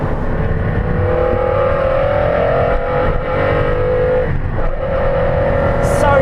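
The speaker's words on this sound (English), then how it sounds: "the engine, which just, the intake noise is extraordinary." Engine and intake of a McLaren F1 or Ferrari F40 supercar roar continuously from inside the cabin, a loud sustained tone that rises and falls with throttle blips, with no speech over it.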